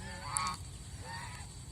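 A farm duck gives a single brief nasal honk, faint and somewhat distant, against quiet background noise.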